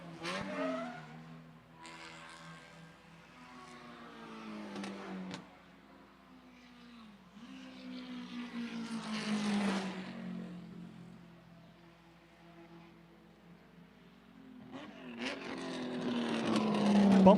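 Miata race cars accelerating bumper-to-bumper at Lime Rock Park, engines droning and rising in pitch as they pass, with swelling surges of revving and a louder rush near the end, under a commentator's voice.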